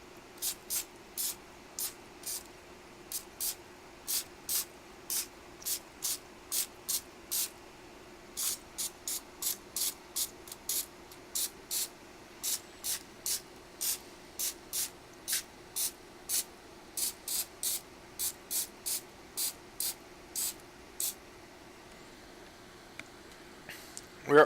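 A can of cooking spray hisses onto a donut pan for baked chocolate donuts in a long run of short, sharp bursts, each a quick spritz, repeated dozens of times at a fairly steady pace with low room hum between.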